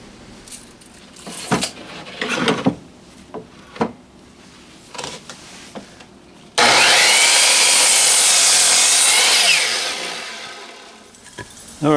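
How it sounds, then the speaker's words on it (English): A chop saw cuts through lumber for building a model railroad switch, a loud steady burst of blade noise roughly five seconds long that winds down, following scattered clunks and handling of wood. "let's get busy on the chop saw"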